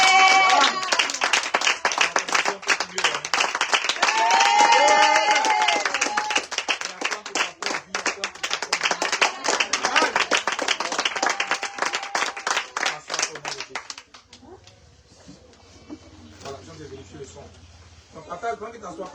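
A church congregation claps and cheers together in a dense, sustained burst of applause that fades after about fourteen seconds, leaving quieter room noise and scattered voices.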